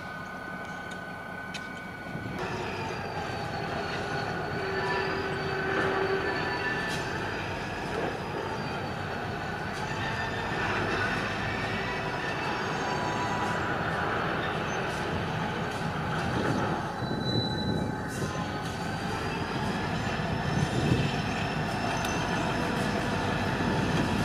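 A freight train rumbles steadily nearby while coupling to and pulling railroad cars, its wheels and couplings grinding with occasional metallic squeals. The heavy sound stays even and continuous throughout.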